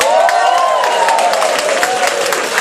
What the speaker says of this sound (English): let's give a cheer for all the fathers in the house.